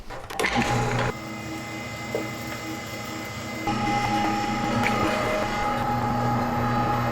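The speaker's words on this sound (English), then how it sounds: "I'll be grinding my meat and fat separately for this Soppressata because I'm going to grind the meat on this bigger die" An electric meat grinder runs steadily, forcing meat through a large die for Italian soppressata, its motor a loud continuous drone with a low hum and shifting mechanical grind, no talking.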